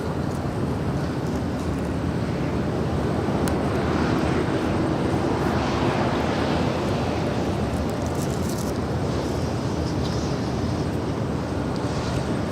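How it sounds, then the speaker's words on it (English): A Delta Airlines Boeing 757-300 jet at Los Angeles LAX airport: a broad, continuous roar of jet engines, steady and fairly loud throughout, with no talk over it. "That is Delta Airlines Flight 2647 heading to Detroit in that 757-300"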